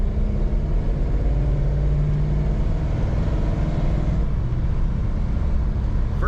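A 1940 Ford Deluxe 5-window coupe street rod on the move, its engine a steady, loud, close drone under constant road rumble with no break.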